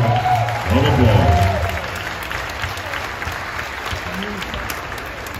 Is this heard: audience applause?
yes